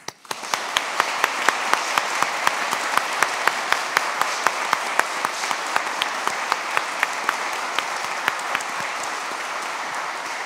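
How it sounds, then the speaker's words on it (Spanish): Sustained applause from a large audience at a lawyers' swearing-in ceremony before the Supreme Court, steady clapping filling the room for about ten seconds without voices. "Aplaudamos este logro."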